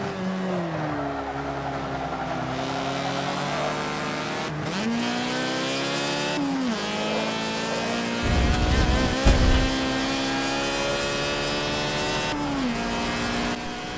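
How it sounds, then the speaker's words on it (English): A Mazda RX-7 with a rotary Wankel engine in the Forza Motorsport 7 racing game, a buzzing engine note rising and falling through repeated gear changes, loud and close, with a brief rumbling burst midway. "This is what an RX-7 sounds like"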